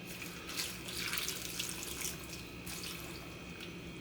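A cup of water running from a kitchen tap for an Instant Pot, a steady faint hiss and splash at a sink with small drips, no talk.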